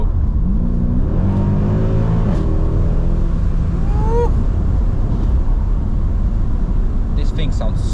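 A 6.2-litre V8 engine in a 2010 Mercedes E63 AMG revs and roars up and down, loud and close, with rising and falling pitch over a steady rumble; voices speak briefly over it.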